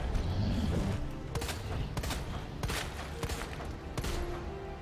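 Gunfire from Claire's gun in Resident Evil 2 comes as several sharp, separate shots, spaced unevenly over a few seconds. They sound over a steady background of game noise.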